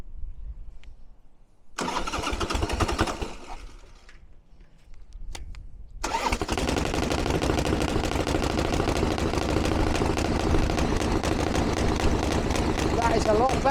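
A Harley-Davidson Iron Head Sportster with 12-inch bars is cranked with the choke on and catches, then settles into a loud, steady idle close by, with a brief stutter before the engine fully takes.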